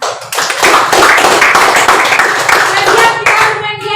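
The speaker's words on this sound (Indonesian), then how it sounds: "Sekali lagi kita berikan tepuk tangan." A classroom of students clapping hands together, a loud close burst of quick overlapping claps that stops abruptly near the end, with some voices mixed in.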